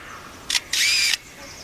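A forest bird mimics a camera with a motor drive: a short click followed by a longer, rapid whirring burst of shutter sound, fairly close and clear.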